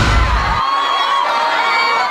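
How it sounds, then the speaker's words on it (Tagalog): Students and teachers of Lyceum of the Philippines University in Batangas cheering and clapping in an auditorium, a loud, continuous roar of shouts and applause that opens with a heavy low thump. "Nakabibingi ang hiyawan at palakpakan ng mga estudyante at guro ng Lyceum of the Philippines University ng Batangas"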